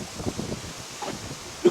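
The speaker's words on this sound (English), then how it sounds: "It's pretty windy out today." Wind blusters outdoors on a windy day, with soft gusty rumbles and rustling buffeting the microphone.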